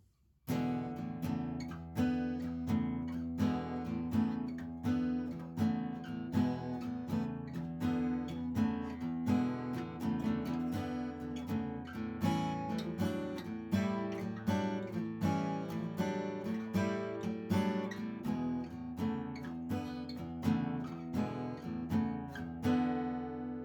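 Bluesy acoustic guitar phrase with plucked notes, bends and strummed chords, played alone at a relaxed, steady tempo.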